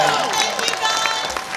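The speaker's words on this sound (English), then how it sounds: "We got to give these guys a big round of applause for being here." Audience applause and cheering at a Comikaze 2015 convention stage, a dense, steady wash of clapping from a large crowd, loud and continuous with some voices mixed in.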